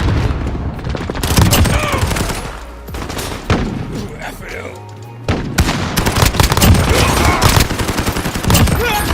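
Rapid bursts of gunfire and explosions from a modern military shooter video game, dense and loud throughout with overlapping shots and booms and no speech.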